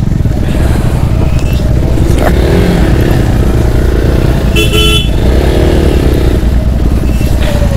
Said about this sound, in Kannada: ಗಾಡಿ ಹಿಂಗೆ ಹೋಗ್ತಾ ಇದೆ.